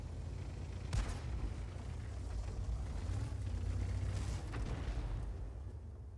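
Heavy tank-gun blasts and rumbling combat noise from an SU-100 tank destroyer in a wartime battle game, with a sharp boom near the start and continuous low rumble throughout.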